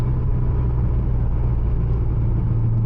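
A 700 hp Porsche Cayman 987 Turbo pulling steadily in top gear around 2500 rpm, a dense, even engine drone and road rumble heard from inside the car, with no talk.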